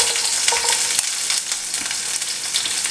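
Quartered small onions hit hot oil in a pan for a horse gram stir-fry, giving a loud, dense, steady sizzle and crackle up close, with a little stirring and no talking.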